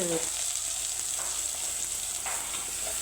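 Steady, even sizzling of tempering spices frying in hot oil for a brinjal and chana dal curry, a close, continuous crackle with no talking.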